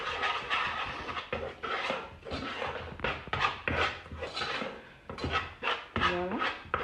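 A spoon scrapes and clinks against a pan while mixing flour into a sauce, in short uneven strokes with a brief squeak near the end.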